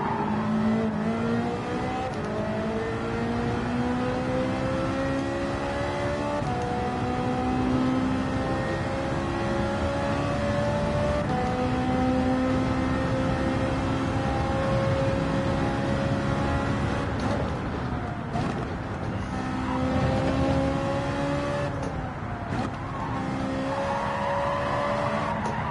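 GT4-class race cars in Gran Turismo 7 drone continuously around a track during an online lobby practice, engines rising and falling through gear changes with overlapping car tones and no speech.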